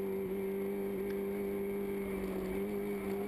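VW Fun Cup race cars at Zandvoort circuit, their engines producing a steady, droning tone with a strong sustained hum that stays constant and fairly close throughout.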